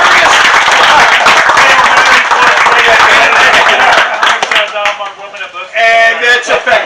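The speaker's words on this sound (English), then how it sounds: "So give her a round of applause." Loud, close crowd applause at a Cleveland sandlot baseball old-timers gathering, dense clapping for about four seconds that thins out into scattered claps with talking voices coming through at the end.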